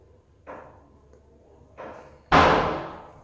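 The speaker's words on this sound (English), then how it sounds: "You're gonna tell me in a hospital they won't fix a door like that that makes this kind of noise?" A door at Sunnybrook hospital in Toronto slams shut. Two lighter knocks come first, then one loud, sharp bang that rings and fades into the room, close by with no voices.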